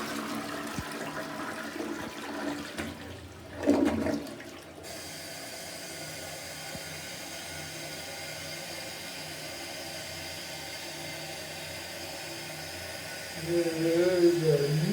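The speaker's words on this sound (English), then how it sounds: "flush the toilet and watch it" A hotel room toilet flushes in a single long rushing burst that settles into a steady hiss of the tank refilling, with a brief voice near the end.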